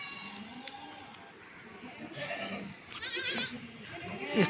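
Goats bleating at a goat farm, a few short nasal calls rising over a busy yard with a person talking nearby, the loudest bleat coming near the end.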